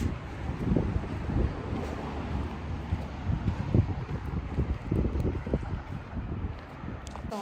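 Strong outdoor wind buffets the microphone in a continuous low rumble with gusty surges, loud and close, with no one speaking.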